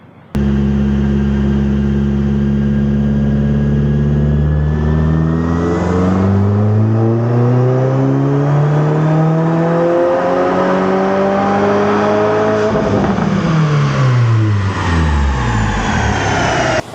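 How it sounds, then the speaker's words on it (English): A tuned 2022 Subaru WRX engine on a dyno revs steadily upward through a long full-throttle pull, loud, the pitch climbing for several seconds before dropping sharply as it backs off. "next pull is going to be the first pull with 93 with the intake on"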